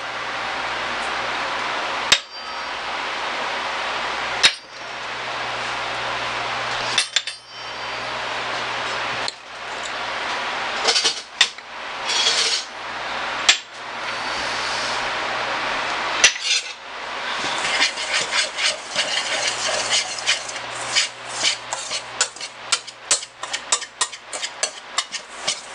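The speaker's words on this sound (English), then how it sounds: "So we're gonna put this together and whisk it together." Low-carb breading spices being whisked together in a bowl, with sharp utensil clinks and taps against the bowl at first, then a rapid run of scraping, clattering strokes near the end, close and without talk.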